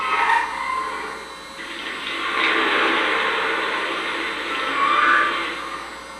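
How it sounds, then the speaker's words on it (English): Water filling the tender on a Lionel Legacy O scale Pennsylvania Railroad K4 Pacific model steam locomotive, a steady hissing, rushing pour that swells and eases over several seconds, heard alone without voices. "We're going to add water to the tender sound."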